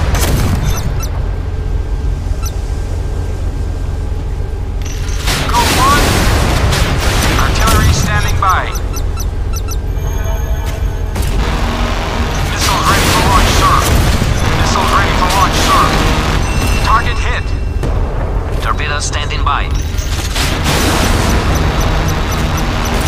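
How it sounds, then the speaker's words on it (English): Warship missile launches roar out in the Modern Warships naval combat game, several loud bursts of rushing noise and booms rising and fading over the stretch, with radio-style voice chatter running underneath. "The missile is away."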